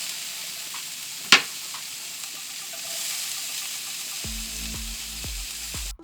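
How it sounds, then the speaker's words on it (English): Steady sizzling of red onions sautéing in a pan, with a sharp clink early on and some faint tapping and clatter toward the end. "Now once you have your onions sauteing just a little bit"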